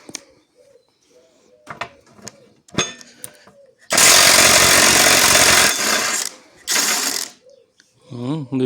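A ratchet works loose the bolts on a hay mower, with a long, loud rattling burst and a shorter one after it, amid quieter clicks and occasional voices nearby.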